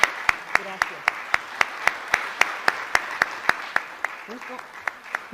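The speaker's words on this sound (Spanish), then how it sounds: "de verdad sí merece un aplauso muy fuerte" An audience at a teachers' keynote lecture claps in steady unison, sharp evenly spaced claps about four per second running for several seconds over a low room murmur.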